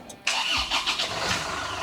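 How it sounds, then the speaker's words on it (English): An Isuzu truck engine cranks and starts up close during a daily inspection, a sharp onset followed by rough, pulsing turnover that settles toward idle. "He started the truck."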